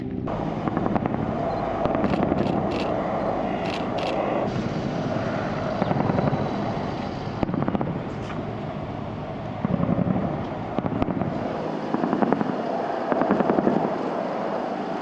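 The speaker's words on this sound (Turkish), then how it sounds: "İki Kobra tipi helikopter de bazı noktaları bombardımana tuttu." Two Cobra attack helicopters flying over a bombardment zone in Tunceli, Turkey, their rotors producing a steady pulsing thump with a loud whine, rising and falling in waves over the full span, no speech.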